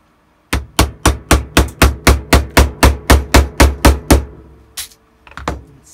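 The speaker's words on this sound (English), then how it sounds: "Just get my hammer and start banging it." A hammer bangs a tool down onto a Shadow Trooper armor part in a home armory build, about fifteen sharp, evenly spaced strikes landing close and loud, then stopping before a few softer handling knocks.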